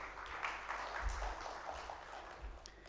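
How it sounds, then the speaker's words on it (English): An audience at a Zanzibar trade and investment forum applauds steadily, a soft, even patter of many hands in a hall, with a low murmur underneath. "A big round of applause."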